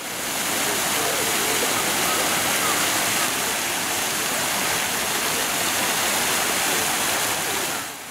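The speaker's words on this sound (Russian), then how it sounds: "Я снимаю сквозь фонтан, и брызги от него на переднем плане замыливаются." Water from a fountain splashing and rushing in front of a waterfall, a dense, steady, loud hiss of falling spray that runs unbroken throughout, fading slightly at the end.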